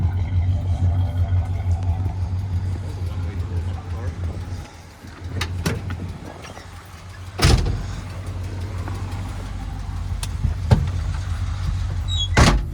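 A 1970 Plymouth Fury door thuds shut sharply midway, with a second fainter clunk later, over a steady idling engine rumble and some background talk.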